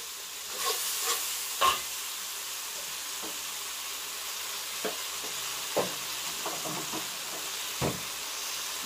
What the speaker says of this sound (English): Stir until all mix together.